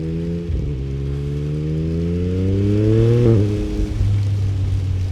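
The engine of a dyno-tuned Yamaha MT-09 SP motorcycle rises and falls as the throttle opens and closes, with smooth climbing revs, a brief blip, and a steady throaty drone, heard loud and close.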